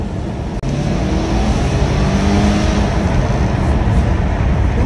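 A 2009 Subaru Forester XT engine roars loudly and steadily up close, a continuous throaty rumble that holds its pitch throughout.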